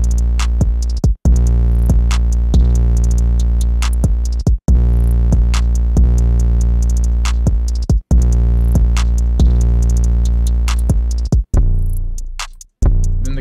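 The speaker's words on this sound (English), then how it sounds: "Then the kick comes in. And then it switches to a different 808." A hip hop beat thumps with a kick drum and deep, booming 808 bass under a bright synth melody, looping steadily with brief dropouts before fading at the end.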